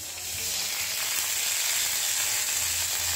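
Water hits a hot pan while making Maggi instant noodles and sizzles loudly, a continuous hissing crackle that holds steady.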